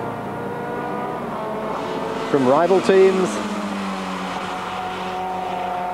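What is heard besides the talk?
race cars passing at Spa-Francorchamps 24-hour race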